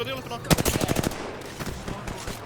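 Video game gunfire rattles in a rapid burst of about a dozen loud shots, followed by quieter scattered firing and game noise.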